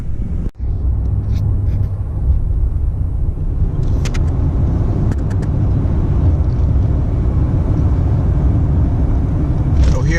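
A plow truck rumbles steadily at low speed as it rolls into a Cumberland Farms gas station, a constant close engine drone with a brief thump near the start and faint clicks later.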